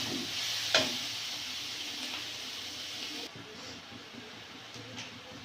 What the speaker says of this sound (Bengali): আর দিয়ে দেবো লঙ্কা গুঁড়ো, জিরে গুঁড়ো, দিয়ে মশলাটা ভালো করে কষে নেব